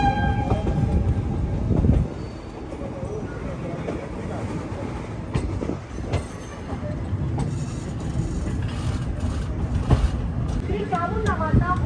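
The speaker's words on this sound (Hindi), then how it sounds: "तो फाइनली हमारी ट्रेन अब मेन लाइन में ज्वाइन हो रही है।" Khandesh Express passenger train in Maharashtra running on rails as it joins the main line, a steady loud rumble of wheels and carriage noise throughout, with faint voices in the background.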